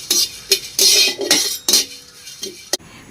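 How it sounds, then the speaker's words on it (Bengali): Whole spices tipped into an empty, dry wok for roasting, giving a series of bright metallic rattles and clinks in short bursts, close and fairly loud, with no voices. "খালি কড়াইতে এগুলো হালকা করে ঢেলে নেব।"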